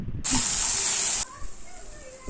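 Chopped tomatoes hit the hot pan for an okra pachadi, setting off a loud, bright sizzle that lasts about a second before dropping to a quieter, steady frying murmur.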